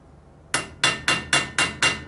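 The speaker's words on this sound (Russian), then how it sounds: "Головкой на 14 обстукиваем." A bicycle crank arm is tapped onto its axle with a 14 mm socket, giving six sharp metallic knocks at an even rhythm, close and alone.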